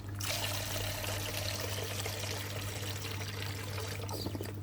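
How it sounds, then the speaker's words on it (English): Water pours steadily into a pan on a Trangia 27 camping cooker, a close, continuous splashing trickle that runs without pause for several seconds. "what I'm going to go with is I'm going to fill this with some water."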